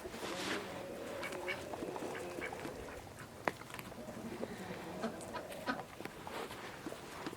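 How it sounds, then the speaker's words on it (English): A male farm duck quacks in a series of nasal calls against an open outdoor background, with geese kept nearby and faint other animal noises in the distance. "That's the boy duck right there"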